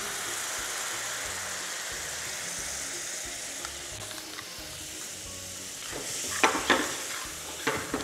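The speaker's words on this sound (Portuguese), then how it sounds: "vamos colocar o vinho branco. Tá? Vamos deglaçar" White wine poured into a hot frying pan to deglaze a sauté, giving a steady hiss and sizzle with a few sharp crackles and pan knocks near the end, close and without talk.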